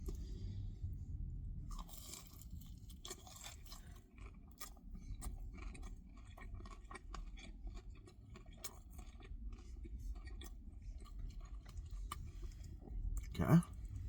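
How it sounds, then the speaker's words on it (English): Someone bites into and chews a Little Caesar's Crazy Puff dipped in sauce, close and quiet, with a run of soft crunches and wet chewing clicks and one sharper sound near the end. "I think I'm actually gonna eat this one with some sauce."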